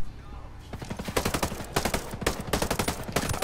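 Gunfire in Ghost Recon Breakpoint, rapid bursts of loud close shots crackling in quick succession with dense overlapping reports, continuous through the moment.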